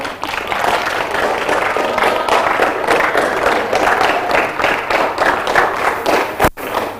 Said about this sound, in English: Can you clap for her, please?